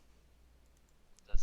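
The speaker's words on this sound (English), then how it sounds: "He's typing." Someone types on a computer keyboard: a few faint, sparse key clicks, then a louder, closer cluster of clicks at the very end.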